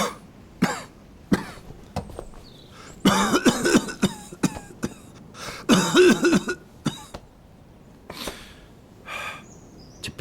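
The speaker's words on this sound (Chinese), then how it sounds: "这陛下的咳嗽，不是说好多了吗？" An ailing emperor coughs in a palace chamber, a series of harsh, close coughs and throat-clearing with gasping breaths between bursts, loud and alone.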